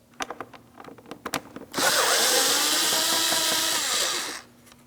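A power drill backing Phillips head screws out of the driver side door panel of a 2006-2010 Hyundai Sonata, with a few clicks and taps first, then one steady whirring run of about three seconds, close and loud.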